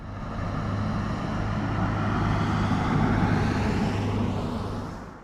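A car drives between ponds, its steady engine and road rumble close and continuous from start to finish, with no voices.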